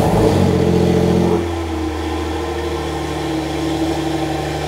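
A Porsche 992 Turbo S fitted with a Ferrita Powerpack, just after a cold start, revs loudly and close up, then drops back to a steady, lower engine drone.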